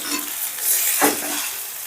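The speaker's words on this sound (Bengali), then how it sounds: "এবার রাইসটা ভেজিটেবলের সঙ্গে বেশ ভালো করে মিশিয়ে নিচ্ছি।" A spoon or spatula stirs cooked rice into vegetables in a pan for veg pulao, with the heat switched off. It makes brief soft scraping and rustling strokes, one stronger swish near the middle, with no voices.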